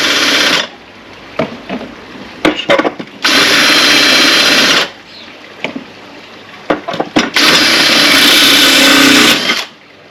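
A power drill bores into porcelain tile in three long loud bursts of high grinding whine, separated by short pauses with handling clicks and knocks, close up.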